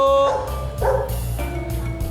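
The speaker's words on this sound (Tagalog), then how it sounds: "May aso pala dito. Hindi, malakas lang yung tahol." A dog barks several times in short, spaced-out bursts, loud but moderately so over a quiet background, at a house in a rural Philippine barangay.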